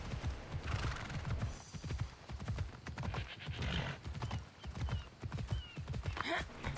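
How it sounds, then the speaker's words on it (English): A horse in the Assassin's Creed Odyssey video game trots along with steady, rhythmic hoof clip-clops, fairly close and at moderate volume, with a brief whinny near the end. "And the horse moves slow because arbitrary town limit."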